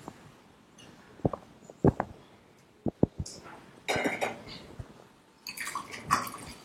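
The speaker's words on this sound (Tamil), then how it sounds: "வெல்லம் வந்து கிண்டிட்டே இருக்கீங்க" Jaggery being stirred to dissolve in water, with scattered sharp clinks of a spoon against the vessel and soft sloshing, close and fairly quiet.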